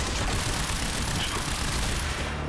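Dense, continuous gunfire from the video game Quantum Break, a steady rattling volley of shots filling the whole stretch at moderate loudness with no talk.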